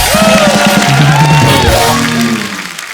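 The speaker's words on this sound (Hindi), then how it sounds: "एक बार फरहान और प्रियंका के लिए जोरदार तालियां" Studio audience cheering and whooping for Farhan and Priyanka on a comedy talk show, loud close crowd shouts swelling then tapering off over about three seconds.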